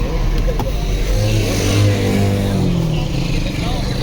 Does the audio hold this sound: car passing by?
yes